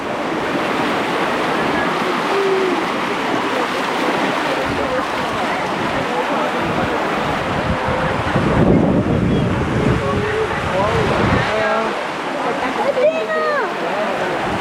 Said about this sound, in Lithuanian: Čia kertasi bangos.